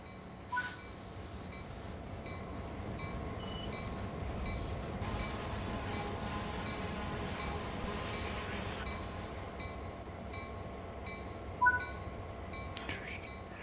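GP38-2 diesel locomotive in Train Sim World 4 easing to a stop, a steady low rumble and rolling wheel noise with faint metallic clinks and a brief squeal near the end.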